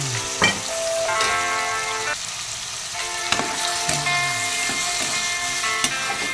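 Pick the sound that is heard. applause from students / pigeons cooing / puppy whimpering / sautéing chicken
sautéing chicken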